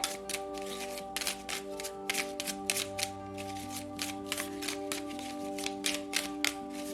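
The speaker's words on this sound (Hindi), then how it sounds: "ये हैंडमेड है, तो शफल कर लेते हैं।" Handmade tarot cards are shuffled in rapid, repeated riffling bursts, crisp and close, over a steady tonal drone of background music.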